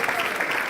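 Brief burst of audience applause at a mayor's State of the City address, dense and continuous, fairly loud.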